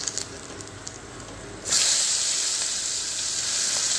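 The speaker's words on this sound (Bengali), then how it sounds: "একটু তেজপাতা দিয়ে দিলাম আর দিয়ে দেবো পেঁয়াজ কুচিটা।" Bay leaf and chopped onion go into hot oil with cumin seeds for a home-style fish curry, and a sudden loud, steady sizzling hiss starts partway through and keeps going.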